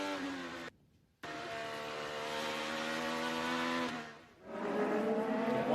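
IndyCar race cars, including the Gamebridge Honda, scream along the Mid-Ohio circuit. A loud, harmonic engine whine cuts out briefly, then returns and builds before dropping as a car passes, with a second engine note following.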